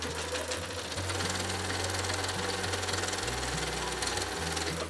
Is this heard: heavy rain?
no